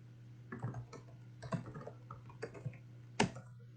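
Sparse, irregular keystrokes tap on a computer keyboard, quiet and close, over a low steady electrical hum.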